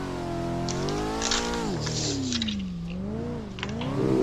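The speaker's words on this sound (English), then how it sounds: "so I can hit rev limiter with this without wrecking the motor by the look of it" C5 Z06 Corvette engine in a racing game, revving hard with pitch swooping up and down through gear changes, a close, loud, continuous harmonic growl with brief dips between shifts.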